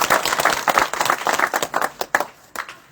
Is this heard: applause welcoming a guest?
yes